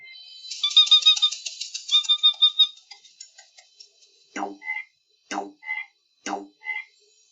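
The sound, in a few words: frog croaking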